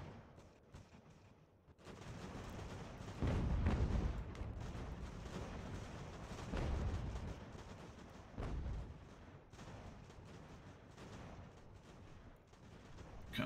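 Artillery fire crackles and booms across a battlefield in Ultimate General: American Revolution, heavy bursts swelling and fading over a steady background of distant volleys, no voices.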